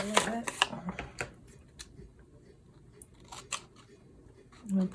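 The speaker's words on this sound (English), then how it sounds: "I'm probably using the wrong scissors because these are not great scissors" Scissors snip through paper during junk-journal crafting, a series of crisp, close cuts in short bursts separated by quiet pauses.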